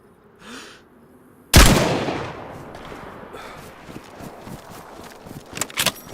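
A single loud, close gunshot cracks out in a shooter video game and then decays, followed by quieter footsteps and small impacts.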